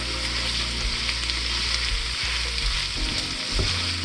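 Sliced yellow onions fry steadily in red chorizo fat, giving a dense, continuous sizzle and crackle close by, with a few soft stirring knocks and no talking.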